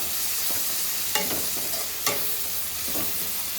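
Garlic frying in oil in a pan with a little turmeric added, a steady soft sizzle broken by a few scraping stirs of a spoon, close and without talk.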